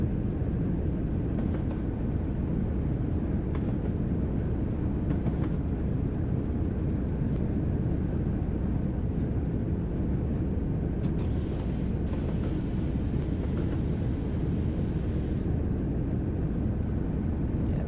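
Steam train on the West Somerset Railway rolling downhill at speed in Train Sim World, a constant dense rumble of wheels and running gear, loud and unbroken, with a brief high whistle-like tone near the end.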